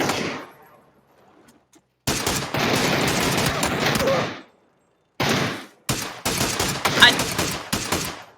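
Bursts of gunfire from an SLR rifle in a video game ring out loud and close in several separate volleys split by short silences, with no one talking.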